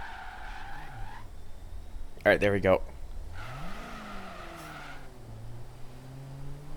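A car reverses and turns around slowly. Its tires give one short, sharp skid squeal over a low engine rumble while someone talks before and after.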